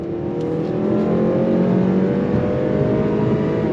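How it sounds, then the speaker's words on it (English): A 2025 Acura TLX A-Spec sport sedan accelerating in sport mode out of a corner, its engine revving with a rising whine over steady close road roar, alone without talk. "On throttle, here we go."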